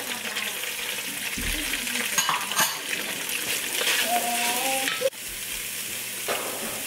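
Carrots and green onion stalks stir-fry in a pan for chicken pad thai, giving a steady close sizzle broken by scraping stirs and a few clinks of utensil on metal.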